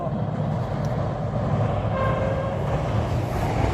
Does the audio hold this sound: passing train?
yes